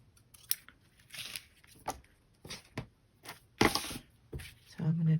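Scissors snip through crinkly, aged paper for a junk journal in several short, crisp cuts with rustling and crinkling between them, close and fairly quiet, with a soft voice near the end.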